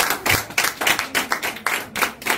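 A crowd claps and applauds at a dowry ceremony in Parakou, Benin, with bursts of rhythmic hand clapping at a steady, lively pace, fairly close and loud throughout.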